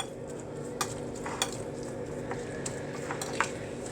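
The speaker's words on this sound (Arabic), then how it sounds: "نقلبهم بقى لحد ما المكونات كلها تبقى في بعضها." Eggplant mixture with a little vinegar stirred in a pan, a steady soft hiss with spoon scrapes and clicks against the pan every half second or so, close and fairly quiet.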